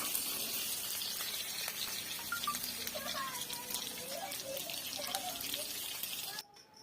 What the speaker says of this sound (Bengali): এই যে সবজির মধ্যে কাজু কিচমিচগুলো ভেজে নেওয়া হচ্ছে।